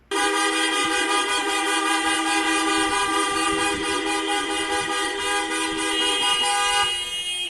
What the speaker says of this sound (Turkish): bir taksi şoförünün alevleri görerek bina önünde uzun süre korna çalması